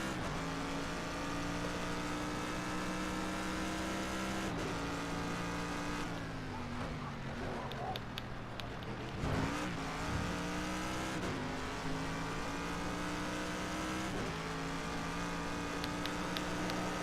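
Race cars in a video game, a steady droning engine hum with shifting pitch as the cars drive and rev, continuous and fairly even throughout.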